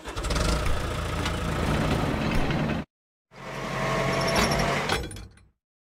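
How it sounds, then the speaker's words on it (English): A road roller's engine runs in two steady bursts: a loud, even rumble for nearly three seconds, a brief silence, then a second stretch that fades out. "Road roller."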